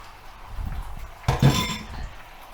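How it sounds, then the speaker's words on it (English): An egg is poured into a warm, generously oiled frying pan for an omelet, giving a sudden burst of hiss and clatter partway through, over low kitchen rumble and faint clinks of pan and utensils. "Pour in your egg."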